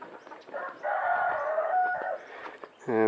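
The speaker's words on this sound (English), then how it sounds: "There's just another chicken here" A chicken clucks and calls nearby, a short burst of throaty vocalizing ending in a louder squawk.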